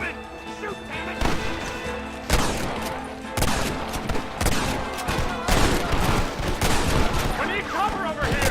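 Battle gunfire in the Red Dead Redemption video game: rapid overlapping shots and bursts crack through a dense, loud mix with sharp impacts, steady and close throughout, with shouting voices in the fray.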